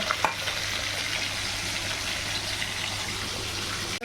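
A fish head fries in a pan with spices, potato and eggplant, giving a loud, steady, close sizzle with a brief clatter near the start and an abrupt stop at the end.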